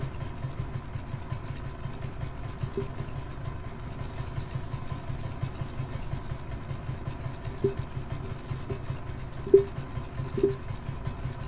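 A simulated aircraft engine turning over during a slow start-up in Microsoft Flight Simulator, on a sunrise flight over Sardinia, Italy: a steady low droning hum with a few faint, sparse clicks and no talking.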